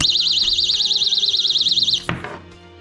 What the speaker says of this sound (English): If the vibration alarm gets disturbed again, the alarm will sound.